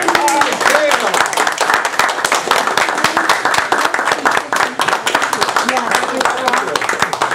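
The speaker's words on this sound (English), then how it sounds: "let's have a warm round of applause for our speaker this evening, Dale Blackman." A lecture audience gives a warm round of applause for an evening speaker, crisp individual claps forming a loud, continuous patter that stays steady for several seconds, close and busy.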